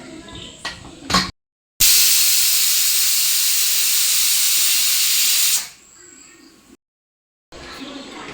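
A pressure cooker whistle releases steam on a stove while chicken curry cooks, a loud sustained hiss lasting about four seconds and then cutting off, with quieter kitchen sounds before and after.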